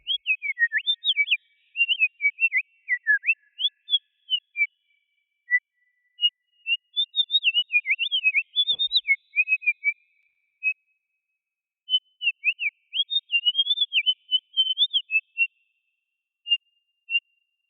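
Synthesized bird calls made with a free module in VCV Rack, bursts of rapid, pure whistling chirps with wavering pitch, separated by silent gaps, heard clean and alone.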